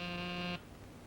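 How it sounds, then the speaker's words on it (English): An office intercom buzzer drones steadily for about half a second, loud and close, then cuts off abruptly into quiet room tone. "Saved by the buzzer."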